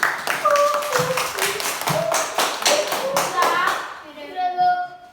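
A classroom group claps in a quick, rhythmic pattern of sharp beats, close and lively, while children's voices call out over it.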